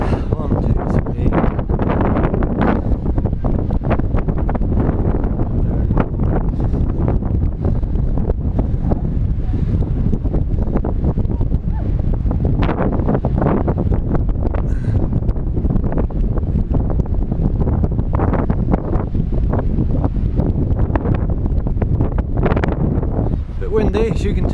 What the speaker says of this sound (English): Windy, as you can tell.